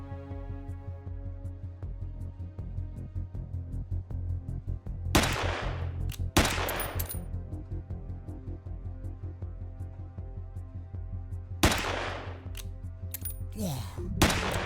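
Gunfire in the survival game Cataclysm: Dark Days Ahead, a few sharp, separate shots with short bursts of noise, set against a constant mechanical humming and clicking drone.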